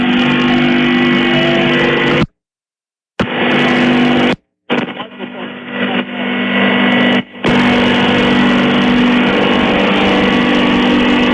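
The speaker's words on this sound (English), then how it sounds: "we got classic tractors coming through here" Classic tractors, including a dual-exhaust International, roll through a Fourth of July parade in Woodsville and Wells River with a loud, steady engine drone. The sound drops out briefly several times, and voices talk over it.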